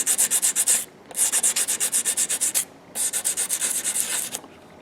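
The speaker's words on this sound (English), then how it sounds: "You can just take this and sand off any rough edges." Rapid rhythmic rubbing of an emery board sanding rough edges on a piece from a woodcraft shop, three bursts of quick back-and-forth strokes separated by short pauses, close and clear with no talk.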